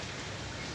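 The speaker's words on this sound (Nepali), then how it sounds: "अहिले असिना पानी अनि हावा पनि आएको छ" A brief burst of hail mixed with rain in Kathmandu, heard as a constant, even hiss of drops striking surfaces, with no voices.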